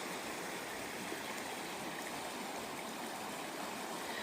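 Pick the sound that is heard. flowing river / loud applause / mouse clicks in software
flowing river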